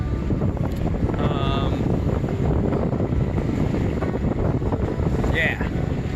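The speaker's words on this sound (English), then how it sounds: "The wind has been blowing northeast at about 15-20 knots for the past 2 or 3 days" Steady strong wind roars across a sailboat's microphone, a 15-20 knot northeasterly in the Abacos, broadband and continuous throughout, with faint tonal whines briefly rising above it.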